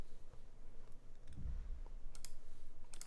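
A Pixelspace Capsule mechanical keyboard with PE foam being typed on, with scattered soft clicks, a low thump near the middle, and a short cluster of keystrokes toward the end, all quiet.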